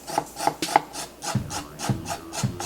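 A knife's back edge scrapes peel from a carrot in short, rhythmic rasping strokes, about eight passes, close and fairly quiet with nothing else heard.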